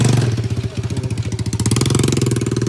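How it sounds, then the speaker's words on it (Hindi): A small vehicle engine runs at an outdoor adventure park play track, a steady close putter with rapid pulsing firing beats that rise slightly in pace, no voices. "देखो भाई ये वाली गाड़ी भी चालू हो गई अब। देखो खतरनाक चल रही ना।"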